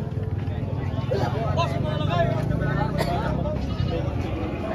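Goats bleating amid a loud crowd of people talking at a livestock auction market in Lemery, Batangas, with traffic noise in the background.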